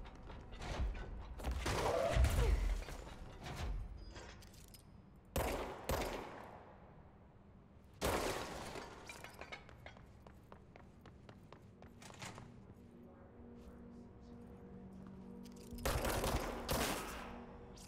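Gunfire in the video game Control, several loud bursts of shots and impacts spaced across the stretch, with mechanical thuds and quieter gaps between them.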